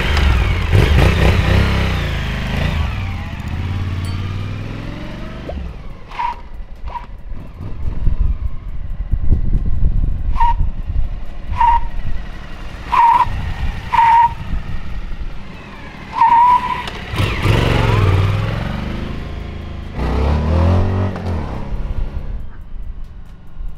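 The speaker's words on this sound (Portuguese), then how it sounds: "Primeiro teste foi dado, a moto derrapou o pneu da frente" A Suzuki V-Strom motorcycle braking hard with ABS off, its front tire skidding in several short squeals amid engine noise, with a longer screech near the end, all loud and close.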